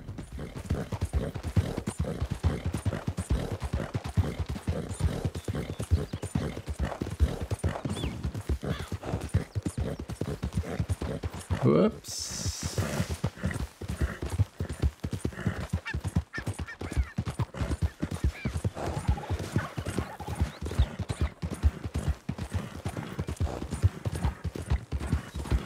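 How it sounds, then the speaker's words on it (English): A horse gallops in Red Dead Redemption 2, hoofbeats drumming in a fast, continuous rhythm close up for the whole stretch, with a brief snort or whinny midway. "This horse has a lot of stamina."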